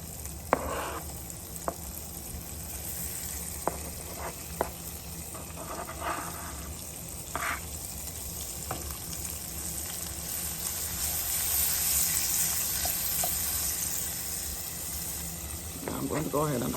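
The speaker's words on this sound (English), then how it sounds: "you want your vegetables to be sauteed also" Vegetables sautéing in a pan for a Caribbean omelette give a continuous soft sizzle and frying hiss, with scattered clicks and stirring scrapes, near and moderately quiet, and a brief louder scrape at the end.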